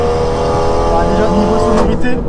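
A 2017 Renault Clio Cup race car with a two-litre four-cylinder engine drones loudly and steadily on a circuit, holding a sustained revving tone with a brief shift near the end, while a voice talks over it.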